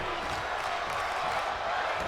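Steady arena crowd noise in the WWE 2K25 wrestling game during a women's match, a continuous moderate roar of cheering with no distinct peaks.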